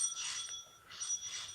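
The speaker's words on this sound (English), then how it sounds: "when the front doorbell rang" A bright electronic bell rings in two repeated bursts, moderately loud and close, with no voices.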